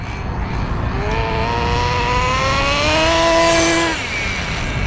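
A Schumacher Menace 21 nitro RC car with multi-speed shifting screams as it accelerates along a real road, its high engine whine climbing steadily in pitch before dropping off as it shifts, loud and close with no talk.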